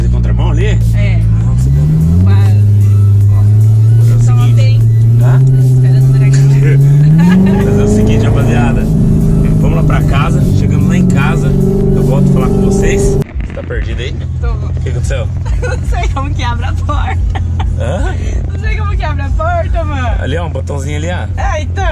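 A car engine runs and climbs in pitch through rising revs, then cuts off abruptly partway through, leaving a quieter interior where people keep talking.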